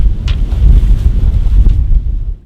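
Strong wind roars across the microphone aboard a sailboat at sea off Cape Hatteras, with waves washing against the hull in a steady, loud rush that fades out at the end.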